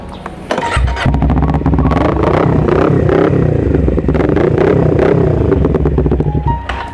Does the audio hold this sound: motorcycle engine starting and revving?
yes